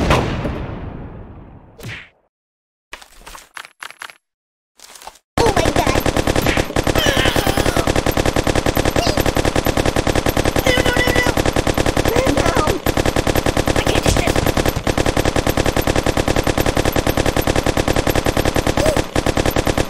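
Gunfire at a shooting range in Kick The Buddy starts after a few short bangs and impacts, then turns into loud, rapid machine-gun fire that runs without a break for about fifteen seconds.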